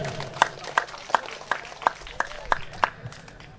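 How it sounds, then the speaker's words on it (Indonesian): An audience at a village competition ceremony for Desa Tonda in Bima regency claps for the village head, heard as a series of sharp, evenly spaced claps. "beri tepuk tangan kepada Bapak Kepala Desa Tonda"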